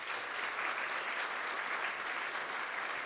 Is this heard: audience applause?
yes